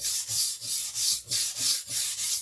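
A knife is pushed back and forth across a wet whetstone in steady, even strokes, about eight rhythmic rasping scrapes at close range with a soft gritty hiss, heard alone without talk.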